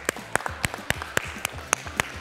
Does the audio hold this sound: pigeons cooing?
no